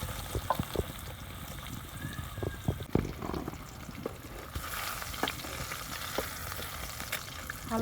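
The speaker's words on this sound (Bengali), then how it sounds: "ডিমগুলো একটা একটা করে দিয়ে ভাজি নেব।" Eggs frying one by one in mustard oil with turmeric and salt in a wok, a steady close sizzle with soft crackles and a few spoon clinks and stirs throughout.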